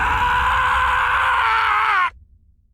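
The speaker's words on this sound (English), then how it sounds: "I scream." A character in the visual novel Tsukihime: A Piece of Blue Glass Moon lets out a loud, sustained scream of pain after being bitten by a serpent, held strongly for about two seconds before cutting off abruptly.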